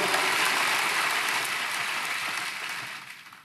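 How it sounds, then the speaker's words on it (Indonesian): A church congregation claps steadily for a praise and worship team in a dense wash of applause that slowly fades toward the end. "Boleh tepuk tangannya di extend buat tim praise and worship kita."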